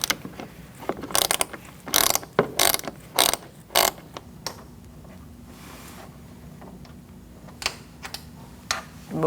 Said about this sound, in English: Using an 8mm socket, we're going to go underneath this adjuster, and there's a bolt. You're going to take out that bolt